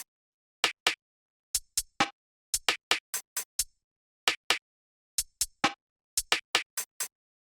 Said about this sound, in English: this drum rack, which has all the percussion in it. It sounds like this.